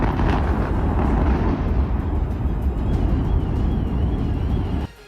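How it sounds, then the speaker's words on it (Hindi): Explosive demolition of the last four power station towers, a loud, sustained rumbling roar of collapse with distant cracks that holds steady, then cuts off sharply. "पावर स्टेशन के आखिरी बचे 4 टावर भी ढहा दिए गए"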